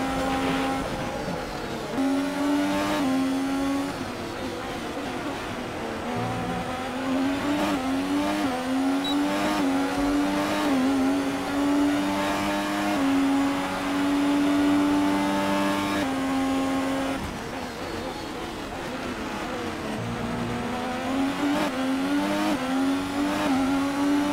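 F1 race car engines in F1 2018 scream steadily and loud throughout, with pitch climbing and dropping through gear changes as cars battle to overtake, layered whines of several cars close together.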